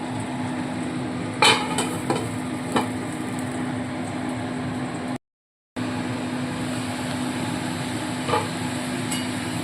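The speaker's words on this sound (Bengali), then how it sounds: "আলুগুলোকে ভালো করে লাচে লাচে ভাব করে ভেজে নিতে হবে" Steady crackling sizzle of potatoes frying in hot oil, with a constant hum and occasional clinks of a utensil against the pan.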